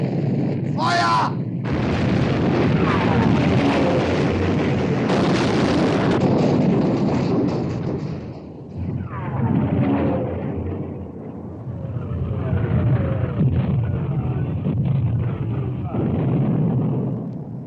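Naval guns firing from warships in the 1960 war film Sink the Bismarck, heavy booming blasts rolling one into another with deep rumble for the whole stretch, easing briefly midway before building again, with voices mixed in.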